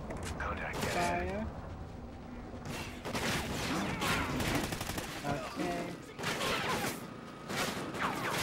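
Gunfire in the Call of Duty: Ghosts campaign mixes rapid bursts and single shots with crashes and impacts, loud and nearly continuous, while a voice talks over the battle.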